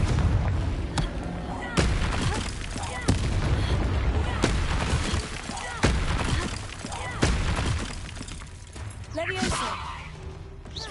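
The Confringo blasting spell in Hogwarts Legacy fires repeatedly, a string of sharp explosive booms at irregular intervals, mixed with game effects and bits of voice.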